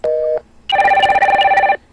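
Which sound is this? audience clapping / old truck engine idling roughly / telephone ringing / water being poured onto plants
telephone ringing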